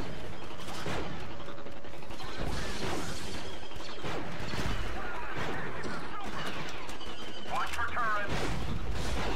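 Blaster gunfire from the Star Wars Battlefront 2 video game, CIS side mod, in dense overlapping bursts and explosive cracks throughout a busy battle mix, with a person talking over it.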